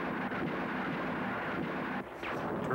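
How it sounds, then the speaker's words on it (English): Cannons firing in the monster film Gamera, heard as a dense, continuous roar of blasts and rumble at a loud level, with a brief dip near the end and no speech. "Fire all cannons!"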